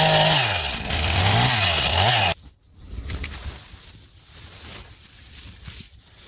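A chainsaw trims the edges of roof timber for an off-grid wilderness cabin, its engine loud and close, revving and bogging in cycles, then cutting off abruptly into quiet outdoor ambience.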